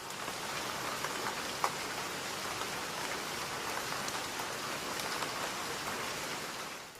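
Steady overnight rain during thunderstorms at North Cascades National Park, Washington, a soft continuous hiss of drops falling alone at low volume, with one brief louder patter.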